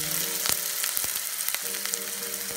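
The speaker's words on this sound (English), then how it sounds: "In a second pot you gotta heat up a little bit olive oil again, and we're gonna add our spring onions." Spring onions hit hot olive oil in a pot and sizzle loudly and steadily, with crisp pops and crackles scattered throughout.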